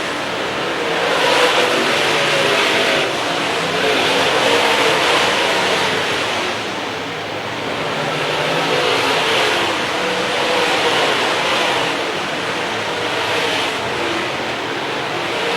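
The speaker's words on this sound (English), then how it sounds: "Diemel, Glenz, Mars trying to put some distance on Rick Hannestead, John Canta, and the rest of the field." Dirt track race cars roaring around the oval in a pack, a dense, continuous engine drone that swells and fades as the field passes, with no talk.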